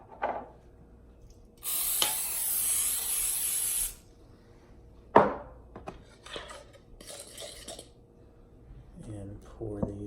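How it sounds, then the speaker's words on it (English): Cooking spray hisses onto a frying pan in one steady two-second burst, followed by a clank of the pan and light kitchen clatter, with a voice briefly at the end. "I'm going to spray my frying pan."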